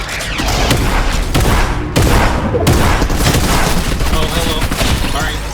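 Shotgun fire in the Fortnite video game: a few sharp, loud blasts ring out over dense, continuous game noise, with a short spoken greeting.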